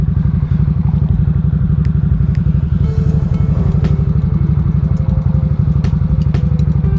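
A Harley-Davidson Nightster motorcycle being ridden, its engine throbbing in a steady, loud, rapid pulse, with occasional clicks and rattles over the top.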